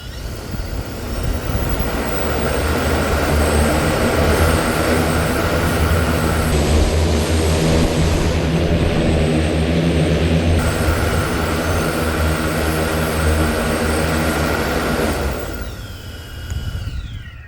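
A homemade 16-propeller eVTOL flying car hovers with a loud, steady, dense whir of spinning propellers that holds for most of the stretch, then winds down near the end.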